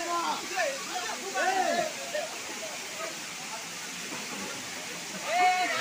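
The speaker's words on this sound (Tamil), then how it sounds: "ஜோஸ்லின் செல்வத்தை தூக்கி அருவியில் விட்டுட்டாங்க." A waterfall at Shenbagathoppu near Srivilliputhur roars as a steady wash of broadband noise, with excited voices calling out over it throughout.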